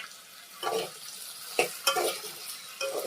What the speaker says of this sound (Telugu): చూడండి, మంచిగా వేగుతున్నాయి